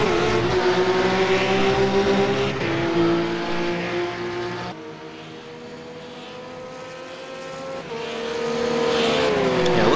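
A RUF race car in the iRacing sim at Interlagos, its engine a loud, steady tone with pitch shifts as it brakes and accelerates through the Senna S corners, dipping mid-clip before rising again.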